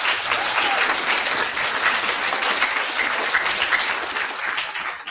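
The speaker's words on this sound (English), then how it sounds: "Round of applause for the outstanding marathoners" Loud sustained applause at a whole-school end-of-term assembly for the outstanding marathoners, a hall full of people clapping densely and evenly for about five seconds before tapering slightly at the end.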